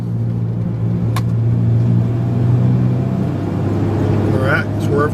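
A Ford F-150 driving along with a worn wheel bearing, giving a steady low droning hum over road rumble, briefly overlapped by a couple of short squeaky sounds near the end.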